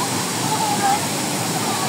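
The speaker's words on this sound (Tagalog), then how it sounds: "Look at that falls." Kawasan Falls waterfall giving a steady, full broadband roar of falling water, close and continuous, with excited voices talking over it.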